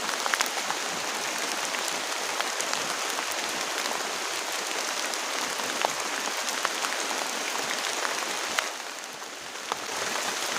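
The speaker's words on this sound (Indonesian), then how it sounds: "Soalnya ini hujan deras banget." Heavy rain pours onto a camping tent during a storm with strong wind, a steady dense hiss of drumming drops that holds unbroken throughout, with no voices.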